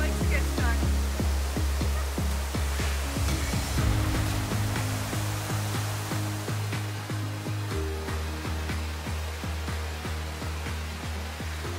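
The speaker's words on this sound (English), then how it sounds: "we made it to the viewpoint for the final waterfall that we're checking out here in Wells Gray" A waterfall in Wells Gray Provincial Park roars as steady broadband rushing water, loud and continuous, with rhythmic low thumping from handling or footsteps near the recorder.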